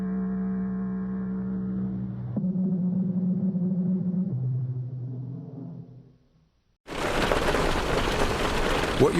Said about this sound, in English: What you're hearing is Hardie Fiber Cement Siding living up to its reputation as the siding that handles hail impact with ease.